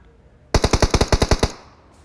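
Automatic gunfire in a battle royale video game, a single rapid burst of about ten loud, crisp shots over one second, followed by fading echo, with no talking.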